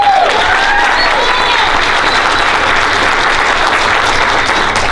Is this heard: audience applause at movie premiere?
yes